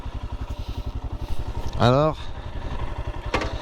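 Royal Enfield Himalayan Scram 411 motorcycle from 2022 climbing a small hill, its single-cylinder engine thumping steadily and close throughout, with someone talking over it.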